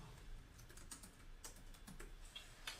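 Quiet typing on a computer keyboard while entering an email address, a series of light, uneven key clicks close to the microphone with no talking.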